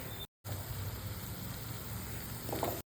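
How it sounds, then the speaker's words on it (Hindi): Onions, capsicum and tomatoes frying in oil in a pan, a soft steady sizzle with a faint clatter near the end, broken by two brief silent gaps. "ये ऑनियन कट करके ऑयल में जस्ट फ्राई करना है"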